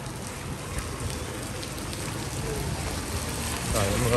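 Light spring rain falls steadily in wet, windy weather, a dense even hiss of drops on surfaces that swells slightly louder toward the end.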